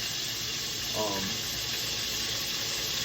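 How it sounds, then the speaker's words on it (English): A steady, loud hiss of chicken frying in hot oil fills the whole stretch, with a voice briefly audible underneath. "you're going to let chicken fry at the proper frying temperature for about 5-6 minutes"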